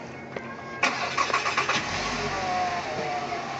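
A riding lawn mower engine cranks with a few quick sputters, then catches and settles into a steady running drone, close and fairly loud.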